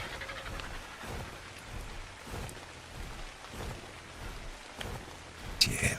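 Rain falls in the survival game ARK on the Valguero map, a soft continuous wash with faint rumbling swells and a few brief clicks, while players talk quietly over it.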